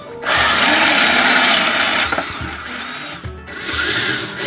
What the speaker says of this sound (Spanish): vamos a terminar con la broca de 12 milímetros